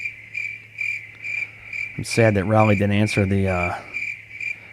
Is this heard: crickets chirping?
yes